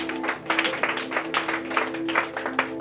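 A church congregation claps in a steady rhythmic beat, bright and fairly loud, over a sustained musical tone.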